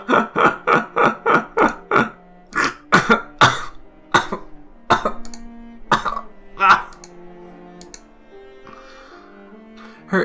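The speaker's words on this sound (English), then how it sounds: "Her insane laughter turned into a painful cough" A character in the Umineko visual novel coughs painfully, a fast run of about eight loud, harsh, evenly spaced coughs that slows into scattered heavier hacks and fades into quiet music.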